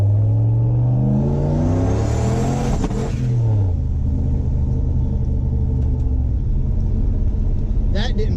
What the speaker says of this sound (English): the truck, right as it builds boost, it backfires real loud.